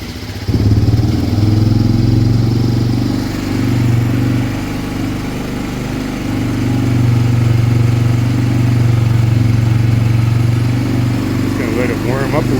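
Honda 300 engine, just revived after not running, warming up with a loud steady close rumble that dips slightly midway and picks back up, while someone talks over it.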